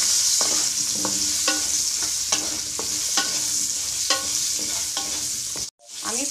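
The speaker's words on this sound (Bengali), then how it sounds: "আমি 5 মিনিট আলুটা কষিয়ে নেব" Potatoes seasoned with salt and turmeric being stir-fried in a pan, a steady loud sizzle broken by repeated scraping stirs of the spatula, with no talking, ending in a sudden brief cutoff.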